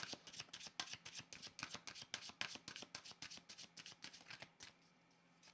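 Tarot cards shuffled briskly by hand, a rapid run of crisp riffling slaps in steady rhythm, close and clear with no talk, easing off near the end.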